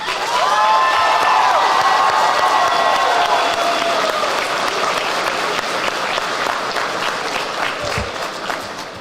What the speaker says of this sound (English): So, just a round of applause for our instructors.